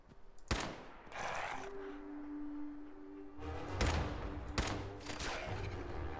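A new weapon fires in Fallout at a mole rat: a few sharp, separate shots, two loud reports near the end, with lighter game sounds and brief tones in between.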